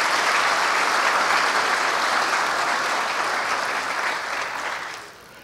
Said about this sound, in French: Je vous demande d'applaudir Kester Farel et le groupe Croissance.